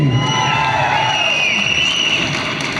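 Audience at a Kannada song launch event cheering and applauding, a dense continuous roar of crowd noise with whoops, loud and sustained throughout.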